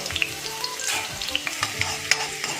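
Onions fry in a couple of spoons of hot oil for an egg gravy, giving close sizzling and crackling broken by irregular scraping and clinking as they are stirred, with no voices.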